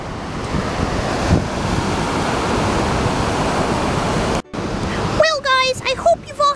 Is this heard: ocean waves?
yes